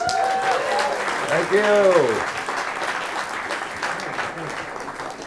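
An audience at a music production masterclass applauds, a broad wash of clapping that swells and fades, while someone speaks over it.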